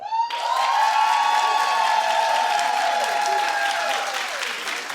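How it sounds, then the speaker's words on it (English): A television talk show studio audience claps and cheers during a clap-off vote, a sustained loud roar of applause while a voice talks over it. "Terry and Idris, we'll do a clap off."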